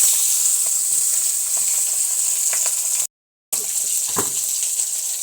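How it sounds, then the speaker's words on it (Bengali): Fish pieces rubbed with turmeric and salt sizzle steadily in hot oil, a loud continuous frying hiss with small pops and crackles and one brief cutout. "মাছ ভাজা চলছে"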